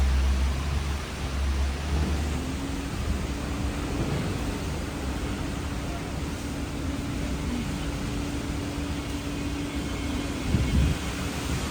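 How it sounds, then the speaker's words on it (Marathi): Strong wind and rain from a sudden storm roar as a steady, dense broadband wash, with low gusty rumble underneath, continuous throughout with no voices. "हवा पाणी सगळाच सुटला."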